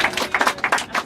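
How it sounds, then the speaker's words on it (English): Bus passengers clap for their driver, a close, fairly regular run of hand claps in quick bursts, with no talk over it. "How about a round of applause for our driver?"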